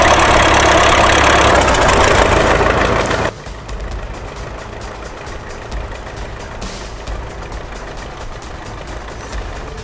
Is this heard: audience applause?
no